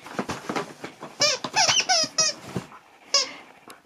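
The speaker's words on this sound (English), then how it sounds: "Oh, squeaky penguin." A squeaky plush penguin dog toy, unwrapped as a husky's Christmas gift, squeaks in a quick run of repeated high pitched squeals, near and loud, with brief gaps and a final squeak after a pause.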